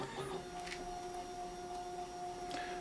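An SEC E9 key cutting machine runs its calibration with a faint, steady electric whine and hum, broken by a few soft mechanical ticks.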